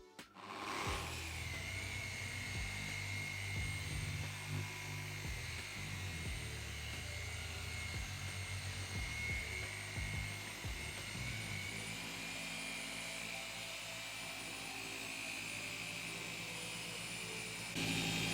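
A machine polisher works ultra cut compound into the black paint of an Audi R8, giving a steady, high whining hum with a low motor drone that runs continuously.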